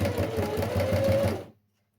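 Sewing machine stitching at the start of a seam on a small fabric pad holder, a steady rapid needle clatter close by for about a second and a half before it stops abruptly.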